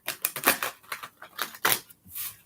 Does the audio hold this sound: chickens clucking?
no